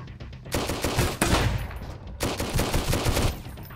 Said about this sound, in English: They have a fucking shotgun.